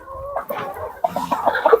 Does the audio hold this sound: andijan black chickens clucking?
yes